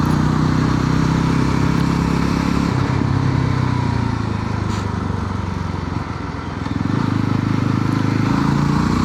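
A 2026 Yezdi Roadster retro-style motorcycle rides along with a steady, loud engine drone that dips briefly midway, then swells again, with no talk over it.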